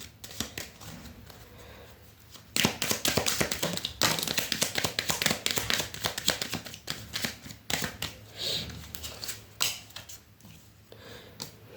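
Tarot cards being shuffled and handled up close, a quiet run of crisp flicks and taps that thickens into dense riffling, with soft handling noises between bursts.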